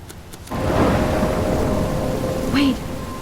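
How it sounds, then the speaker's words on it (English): A rainstorm from the game Life Is Strange swells into a loud, dense rumble of thunder and rain that holds steady, with a brief voice-like sound near the end. "A storm?"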